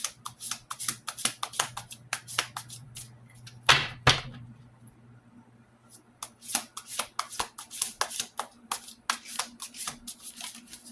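A stiff, brand-new deck of playing cards being shuffled by hand, repeated quick riffling bursts in a steady rhythm, close and crisp, with a louder snap of the cards around the middle.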